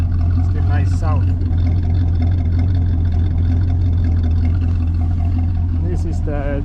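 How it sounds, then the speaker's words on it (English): A 1983 Chevy El Camino's 305 5-liter V8 idles steadily and close by, a continuous low rumble running throughout with a few short bursts of higher-pitched noise over it. "This is the 305, the 5-liter engine."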